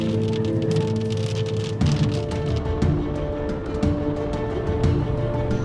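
Rain falls in the Colorado mountains, a steady patter on surfaces close by, with a low hum running underneath and a few louder knocks scattered through.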